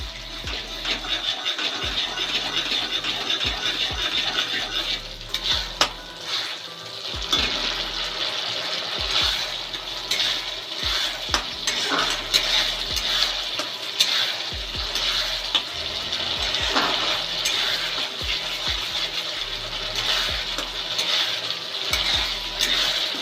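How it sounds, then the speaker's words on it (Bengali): Tomato masala for a yogurt-based new potato curry sizzles in a pan while a spoon stirs and scrapes it, with repeated clicks and scrapes over a continuous frying hiss. "এবার নাড়তে থাকবেন যতক্ষণ না এর থেকে তেল ছাড়ছে টমেটোর থেকে"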